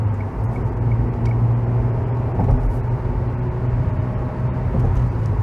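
A 2014 Hyundai i20 Jump with a 1.2 petrol engine accelerating with the air conditioning on, heard from inside the cabin as a loud, steady engine drone and road rumble that rises gently, with no talking.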